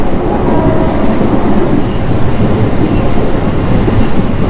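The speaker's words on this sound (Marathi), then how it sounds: "पेनच्या पुढे पाऊस खूपच लागतो" Heavy monsoon rain pours down beyond Pen on the Konkan coast, heard from a moving Diva–Roha MEMU train as a loud, steady, unbroken roar that fills the whole stretch.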